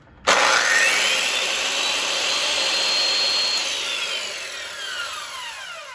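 An old Black and Decker electric saw starts abruptly and runs with a loud, whining, steady motor tone. The whine slowly dips in pitch as it cuts into wood, close up and with no voices.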